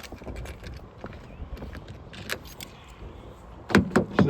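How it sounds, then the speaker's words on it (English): Kia e-Niro electric car with its driver's door being locked: soft mechanical clicks and rustling, then a louder cluster of sharp lock clunks near the end, close by and with no talk. "So the driver's door is now locked."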